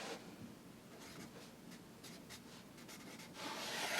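Pen or pencil writing on paper while noting art terms, a faint, close scratching and rubbing that continues through the stretch and grows louder near the end.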